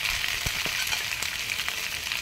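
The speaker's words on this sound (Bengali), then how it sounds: "এখন আমি চিংড়ি মাছগুলোকে একটু ভালো মতো ভেজে নেব।" Shrimp sizzle steadily in hot oil in a wok for a Bengali kochur loti and shrimp dish. The frying hiss is close and continuous, with a few soft pops and stirring knocks and no talking.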